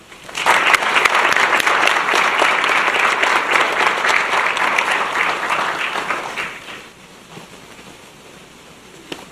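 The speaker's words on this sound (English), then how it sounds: "Please join me in a round of applause for Dr. Lobo." An audience at a Cuesta College teacher appreciation night applauds Dr. Lobo, a dense round of clapping that starts loud, holds steady for several seconds, then tapers off to quiet room tone.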